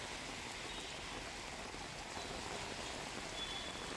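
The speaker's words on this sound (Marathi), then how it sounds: "दादर परिसरातही पाऊस बरसतोय।" Rain falling over Mumbai's Dadar area, a soft, even hiss of rainfall that holds steady without breaks, faint and distant, no voices.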